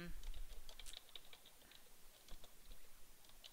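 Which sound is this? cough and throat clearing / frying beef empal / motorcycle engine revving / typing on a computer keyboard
typing on a computer keyboard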